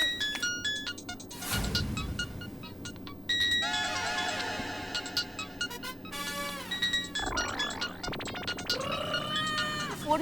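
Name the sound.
mobile phone ringtone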